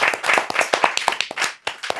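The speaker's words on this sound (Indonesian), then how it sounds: "tepuk tangan dulu buat kita semua." A live audience claps along at a talk show with a bakery owner, sharp irregular hand claps following a loose rhythm, fairly close and loud, with a brief pause near the end before the clapping resumes.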